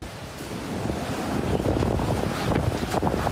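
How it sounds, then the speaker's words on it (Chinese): Typhoon Kong-rey's strong winds, gusting to force 17, roar across Orchid Island, a continuous loud rush with buffeting bursts on the microphone and surging surf beneath. "强风暴雨将路树吹到东倒西歪"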